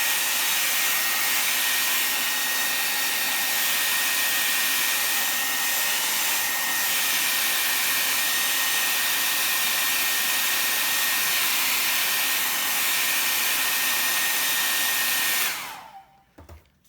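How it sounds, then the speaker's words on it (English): A hair dryer blows with a loud, steady whoosh for about fifteen seconds, drying paint layers on paper, then cuts off abruptly, leaving brief quiet rustling. "I blast it with the hairdryer."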